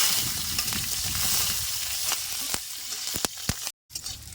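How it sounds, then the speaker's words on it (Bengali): Green chilies sizzle in hot mustard oil with a steady crackling hiss that eases slightly over time, punctuated by a few sharp clicks of a utensil against the pan, close and without speech. "এখন আমি চার পাঁচটা কাঁচা লঙ্কা দিই"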